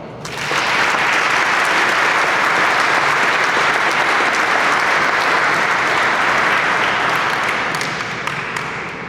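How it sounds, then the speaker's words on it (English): A large crowd at a military change-of-command ceremony applauds steadily and loudly for several seconds, a dense wash of clapping that fades slightly at the end. "A quick round of applause for all the team."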